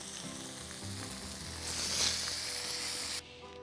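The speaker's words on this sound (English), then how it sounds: "That's what you want to hear when you put a piece of meat in a pan." Pork cutlet sizzles and fries in a hot pan, a steady close hiss that swells louder midway before dropping off abruptly near the end, with no talking.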